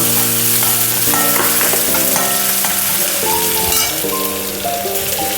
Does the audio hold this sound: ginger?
yes